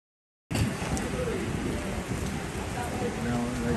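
After a brief silence, rain begins hissing steadily on surfaces, a constant close wash of drops with faint rumbling underneath, aboard the Holland America Eurodam cruise ship.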